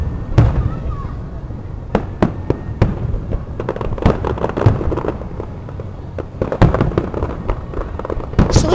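Fireworks burst repeatedly in sharp, irregular bangs and pops, some close and loud, others farther off, over a continuous crowd-like rumble.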